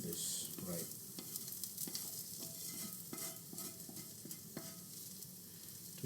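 Steady sizzling and crackling of an omelette with onions frying in a hot carbon steel pan with a rough surface, with occasional scrapes of stirring, fairly quiet and close.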